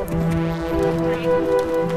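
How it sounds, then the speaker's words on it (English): Horse hooves thudding in a canter rhythm during a warm-up before a jumping course, soft repeated beats under steady tonal background sound, moderately close. "starting with a warm-up of canter."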